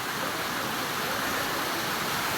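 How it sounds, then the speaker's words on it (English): Steady broadband rush of a waterfall at Kolbung in Elam district, Nepal, a dense continuous roar close by with no voices. "this is another nice waterfall"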